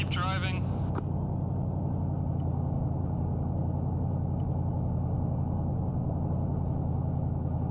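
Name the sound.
vehicle driving in Arma 3 video game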